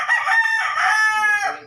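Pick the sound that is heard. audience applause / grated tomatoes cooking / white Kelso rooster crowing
white Kelso rooster crowing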